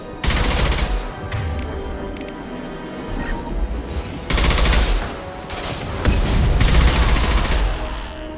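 Sustained gunfire from a Mass Effect 2 firefight, dense bursts of automatic weapon shots with booming impacts, loud and continuous with brief lulls between volleys.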